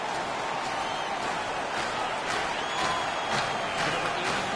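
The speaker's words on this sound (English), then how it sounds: "The home crowd is ecstatic. They're making all kinds of noise." Home crowd in an NHL hockey video game roars after a fight ends, a dense continuous wall of cheering and noise at steady loudness, with faint announcer-style talk underneath.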